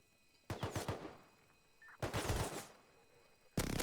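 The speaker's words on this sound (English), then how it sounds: "let's see how much damage this minigun will do" Minigun in the survival game Rust firing three sustained bursts, each a dense, rapid rattling roar lasting about half a second to a second, separated by quiet gaps.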